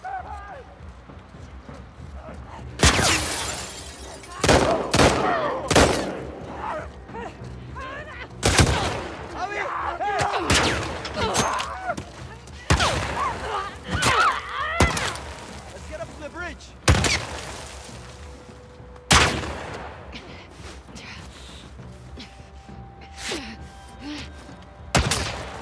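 Sniper gunfire rings out in The Last of Us Part II, loud sharp shots cracking at irregular intervals across a busy game scene with rumbling in between.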